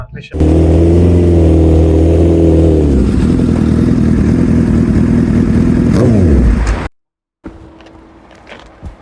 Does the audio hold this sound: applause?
no